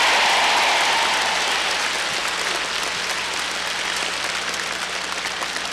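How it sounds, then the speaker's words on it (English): Loud, steady clapping from a large crowd, a dense continuous wash of applause with no pauses. "clap your hands and shout, yeah"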